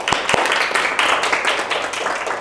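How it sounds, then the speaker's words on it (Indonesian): An audience at a university teaching session applauding, a busy, uneven patter of many hands with a couple of sharp nearby claps at the start, fairly loud and with no speech over it. "Kita beri tepuk tangan dulu."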